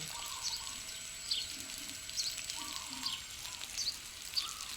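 Water flowing steadily from a hose or sprinkler while a backyard vegetable garden with chili pepper plants is watered, a continuous soft hiss with faint bird chirps scattered over it.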